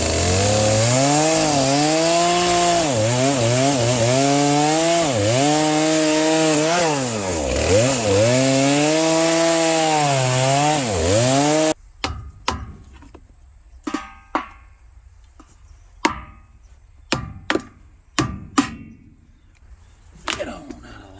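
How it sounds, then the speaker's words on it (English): Chainsaw running at full, loud throttle for about twelve seconds, its pitch dipping repeatedly as it bites into wood on an abandoned 1971 Ford F100 truck, then cutting off into scattered sharp knocks and clatters. "I'm gonna try to use a chainsaw."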